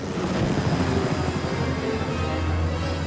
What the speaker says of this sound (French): On est passé en mode hélicoptère.